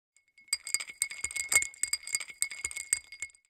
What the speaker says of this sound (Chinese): 加冰块搅拌